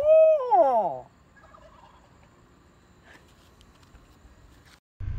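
A wild turkey roosting in a yard lets out one loud, close gobble lasting about a second, followed by near silence with only faint background sounds.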